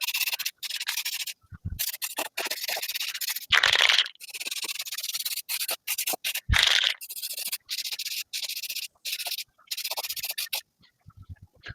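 Angle grinder cleaning up metal welds in repeated bursts of harsh scraping and sanding, close and loud, broken by short pauses between passes.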